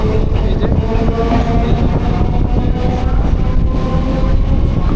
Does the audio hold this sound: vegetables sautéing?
no